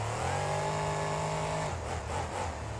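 Monster truck engine at a freestyle competition screaming on full throttle, a loud sustained high-revving roar that holds steady and then drops in pitch as it comes off the throttle.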